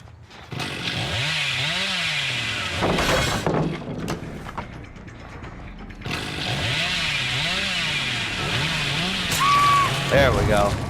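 Hillbilly's chainsaw in Dead by Daylight, loud and close, revving in long sustained roars with rising and falling pitch, a brief break in the middle, then a second extended rev.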